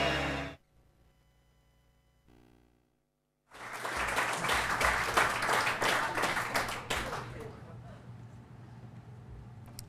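A large audience at a London social media event about the BBC and the 2012 Olympics bursts into loud, sustained applause after a brief quiet stretch, the clapping thinning out toward the end.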